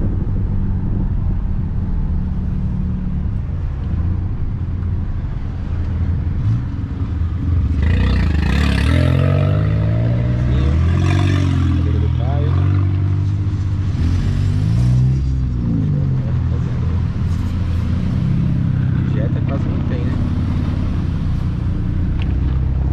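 Cars pass close by on a highway near Lago Azul, heading toward the capital, with a low rumbling road noise that swells as vehicles rush past mid-clip, then eases back to a steady drone.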